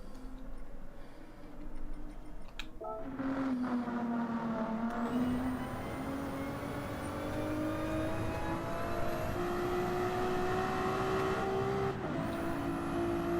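Race cars on the Nürburgring Nordschleife, among them a Ferrari, roar past one after another, engines rising and falling in pitch as they approach and pull away, loud and continuous from a trackside spot.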